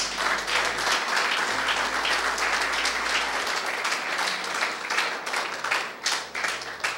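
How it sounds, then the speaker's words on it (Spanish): A church congregation applauds loudly and continuously during a sermon, with dense, sustained clapping throughout. "¿Cuántos aplauden a Dios?"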